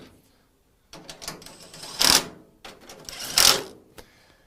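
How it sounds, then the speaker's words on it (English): Stock mounting hardware being tightened on the core support of a classic Mustang while an aluminum radiator is fitted, heard as two ratcheting bursts after a brief silence, close and alone with no talk. "You use stock hardware on the core support here. So let's just get those tightened down."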